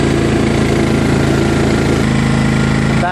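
A John Deere LA105 lawn tractor engine runs steadily and loudly in fifth gear, a continuous close-up drone with an even throb and no pause.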